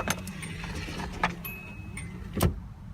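Car keys jangle in short metallic bursts near the microphone, with a few scattered clinks over a low steady hum, the loudest rattle arriving near the end, during work on a fuel hose for an SR20DET engine.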